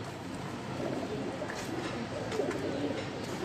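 Soft cooing from a loft of pigeons runs as a steady low burble, with overlapping calls rising and falling close by over constant background noise and no distinct voices.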